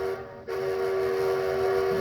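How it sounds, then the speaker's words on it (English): A model train's five-chime whistle sounds a steady, sustained, mellow chord that holds without a break for the whole stretch. A faint dip near the start could come from a brief bit of background noise. "I also did change the whistle to a different 5-chime."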